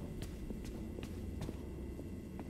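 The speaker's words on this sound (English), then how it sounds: "I hear footsteps!" Footsteps in the video game Five Nights at Freddy's: Security Breach tap at a steady walking pace, about six soft, evenly spaced steps over a low, constant background hum, with no speech.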